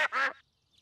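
Two quick cartoon duck quacks, close and clear, the second longer and stronger, followed by near silence with a faint trailing chirp.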